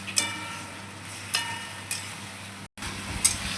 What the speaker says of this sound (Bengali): এবার মশলাটা করবো, কষাবো পুরো মাংসের মতন